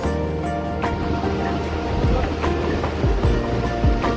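Water rushes steadily through the Jurala dam, a loud, continuous roar of flowing water with a windy, surging texture.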